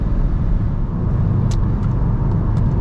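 A 2014–2019 VW Golf 7 R engine drones steadily at cruising speed as the throttle is lifted, a loud, continuous low rumble from inside the car with no talk.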